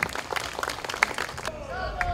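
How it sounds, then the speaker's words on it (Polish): At a brass band festival in Czemierniki, Poland, an audience applauds to welcome a youth brass band. The clapping is loud for a moment, then breaks off as a voice carries on over the fading crowd. "Wielkie, wielkie brawa, nasza Młodzieżowa Orkiestra Dęta Czemierniki Razy Podlaski."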